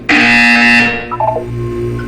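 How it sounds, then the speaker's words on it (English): A loud electronic buzzer in Portal 2 sounds one steady, harsh tone for about three quarters of a second, then cuts off, leaving quieter game tones and a low background hum. "You will hear a buzzer."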